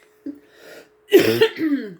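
A single person coughs, a short throat sound followed by a harsher, louder hacking cough, close up with nothing else around it.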